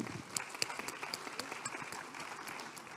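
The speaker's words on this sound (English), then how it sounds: "I was about to ask for a round of applause, but I got it already" Applause from the audience at a roundtable discussion on dams and reservoirs, a steady moderately loud patter of many hands clapping with a few sharper claps standing out, heard at some distance in a large hall.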